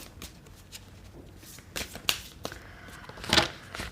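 Tarot cards shuffled and drawn from the deck, a series of quick papery riffles and flicks, close and quiet, with a louder burst near the end and no talk.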